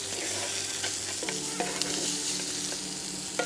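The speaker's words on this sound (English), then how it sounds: "we're now going to add our shallots. Let's cook out those shallots." Shallots sizzle and fry in a pan at a cooking demonstration during a motorhome show, a loud close hiss with occasional clinks and scrapes of stirring, and no one talking.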